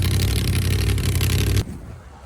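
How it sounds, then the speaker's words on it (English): A blown rat rod with a big racing engine pulls away at a St. Augustine, Florida car meet, its loud, steady engine roar filling the air before cutting off sharply into quieter background noise. "St. Augustine, Florida. Rat rod. Blown rat rod with the big racing engine."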